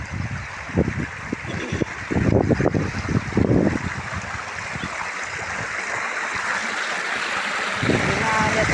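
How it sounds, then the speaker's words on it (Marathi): A farm stream channel brimming with rainwater rushes in a constant broadband roar, close and fairly loud. Brief voices come through in the first few seconds before the flow continues alone. "पाणी चालू फुल नाला भरला आहे"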